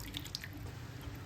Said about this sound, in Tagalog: Lagyan ng konting tubig.